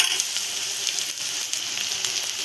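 Red lentils (masoor dal) sizzle loudly and steadily in hot oil as they are stirred in for a mysore pappu potato curry, with a continuous bright frying hiss and no talking.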